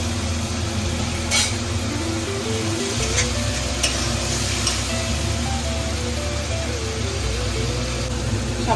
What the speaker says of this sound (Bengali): সামান্য একটু জল দিয়ে মশলাটা কষিয়ে নেবো আস্তে আস্তে